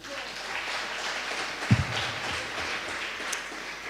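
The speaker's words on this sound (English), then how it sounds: "Let us clap hands for our minister" A community hall audience at a small business roadshow gives soft, scattered clapping for a minister, faint and somewhat distant, with one sharper knock partway through.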